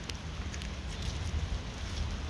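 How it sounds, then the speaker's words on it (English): Rain falls as a steady, soft patter and hiss with faint scattered drop ticks, heard at even loudness throughout and without talk. "it said that the rain was going to stop soon"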